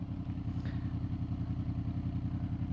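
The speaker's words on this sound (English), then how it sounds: "May as well show you the Black Widow exhausts as well." A Honda VFR 800 VTEC motorcycle with Black Widow exhausts running at idle close by, a steady deep, lumpy throb with regular pulsing beats and no voices over it.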